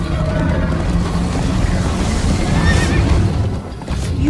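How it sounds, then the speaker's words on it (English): A horse neighs in the video game Minecraft Story Mode, a loud whinny over a dense, steady bed of galloping hoofbeats and rumbling game sound that runs throughout, with no talking. "First time on a horse here!"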